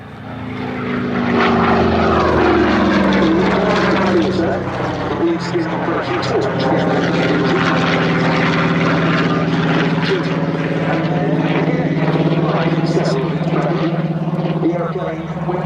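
A Curtiss P-40F Warhawk propeller fighter flies past at the Duxford Battle of Britain airshow, its engine a loud, steady drone that builds quickly and holds throughout, with a faint commentary voice beneath.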